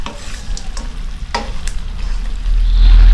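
Food stirred as it fries in a pan, with close scraping and occasional clinks of a utensil over a continuous sizzle that swells louder and denser toward the end.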